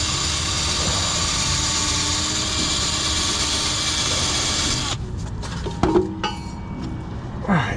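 A small, inexpensive Warrior power drill whirs steadily at high speed for several seconds close by, then cuts out, followed by a few clanks and light handling noises.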